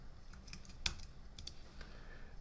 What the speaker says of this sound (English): I'll type array,